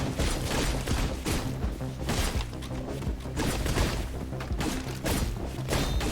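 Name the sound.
explosions in video game Katana Zero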